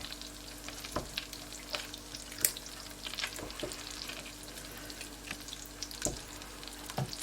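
Lasagne filling cooks in a frying pan with a constant close sizzle, broken by frequent scrapes and clacks of stirring spread evenly throughout.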